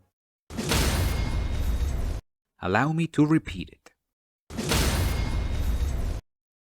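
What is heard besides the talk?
video game stance break or parry cue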